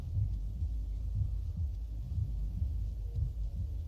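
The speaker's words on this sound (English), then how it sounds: "That heart beating." A heartbeat sound effect closes a Christian music video, a low, muffled, steady thumping pulse repeating alone at moderate volume with a faint hum beneath.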